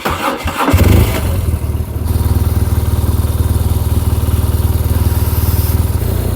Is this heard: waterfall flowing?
no